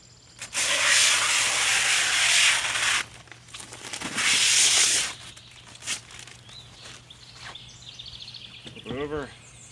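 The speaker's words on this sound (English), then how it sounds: "the first step is to tear off protective coating on both sides" Protective coating is torn off a new vented full windshield for a Rhino 700: two close, loud rasping peels, the first long and the second shorter, followed by fainter handling rustles.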